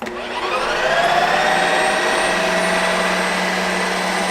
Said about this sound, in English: we're gonna tell it to spin. Now it's gonna get loud.